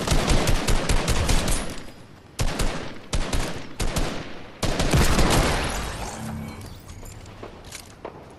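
Fortnite gunfire: rapid bursts of automatic shots in loud clusters with brief gaps, sharp and close, tailing off into softer distant pops and footsteps.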